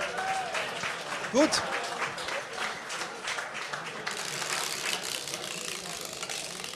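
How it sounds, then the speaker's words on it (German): A German game-show studio audience applauds in a steady, dense wash of clapping that continues throughout, with a brief word spoken over it near the start. "Applaus."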